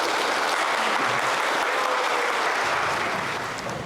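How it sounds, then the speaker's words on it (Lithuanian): Sustained wedding applause from a crowd of guests, dense and steady clapping that fills the room and tapers off slightly toward the end, with no talking. "Pavyko, aplodismentai."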